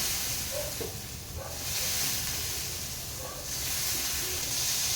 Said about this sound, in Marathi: ह्यामध्ये जास्त पाणी नाही, पाण्याचे फक्त असे थपके मारायचे आहेत.